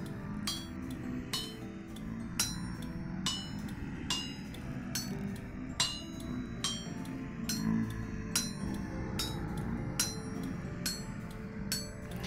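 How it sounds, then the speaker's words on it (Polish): Hammer blows ring on iron against a bronze anvil in Vintage Story, a steady series of about fifteen sharp metallic clinks spaced roughly a second apart over a low background hum. "żelazne przedmioty już musimy wykuwać na kowadle z brązu"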